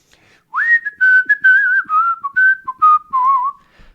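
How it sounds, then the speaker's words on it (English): A person whistles a tune alone, a clear run of sustained and gliding notes with short pauses between phrases, close and bright against silence. "Somebody's whistling a song"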